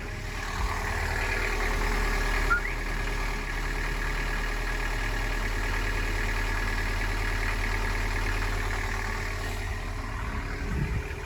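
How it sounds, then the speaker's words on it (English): A boat engine idles steadily and evenly, a constant low droning hum with a faint higher whine, running without change throughout. "So, engine can running for a while to charge the battery"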